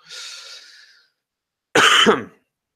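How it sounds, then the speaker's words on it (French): Two separate coughs from one person, close by: a soft, breathy one first, then after a pause a louder, harsher cough. "Tu vois, je tousse."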